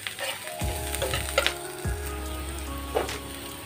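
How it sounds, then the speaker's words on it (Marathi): Onion browning in a pan on an Indian home stove, with a steady sizzle and a few light knocks and scrapes of a spoon stirring against the pan, close and without talk. "याला भाजून घेऊयात. हा कांदा जास्त ब्राऊन होऊ द्यायचा आहे आपल्याला."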